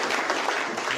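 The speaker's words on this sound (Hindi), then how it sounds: "एक बार जोरदार तालियों के साथ" Audience at a Hindi-Urdu poetry gathering in Guna claps enthusiastically, a continuous wash of many hands, moderately loud and steady throughout the brief moment.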